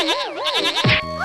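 A wavering, nasal goat bleat, close and loud, comes in a single warbling call that breaks off into a short rougher cry before a steady tone.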